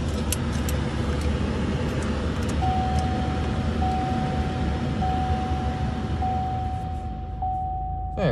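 A 2021 GMC Canyon pickup idles steadily after a remote start, a constant broadband engine rumble with cabin blower hiss, a faint steady tone running through the middle, and no talking.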